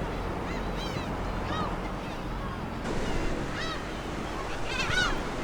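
A large flock of seagulls circles over the sea while hunting anchovies, its shrill, repeated calls rising over a steady wash of surf and wind.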